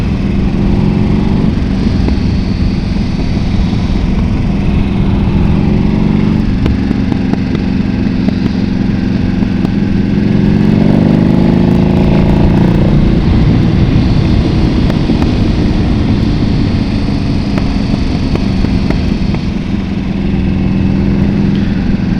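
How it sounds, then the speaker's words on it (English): Kawasaki KZ650 motorcycle engine while riding, a loud steady drone with shifting pitch as the throttle rises and falls, continuous and close throughout with no talk. "I hold the throttle and do my trail braking"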